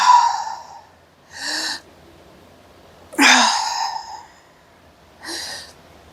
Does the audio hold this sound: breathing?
yes